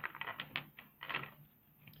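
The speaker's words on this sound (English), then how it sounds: "my cards are shifting every which way" Tarot cards shuffled by hand in a burst of quick riffling and tapping, several short crisp rustles with brief pauses, fairly close and soft.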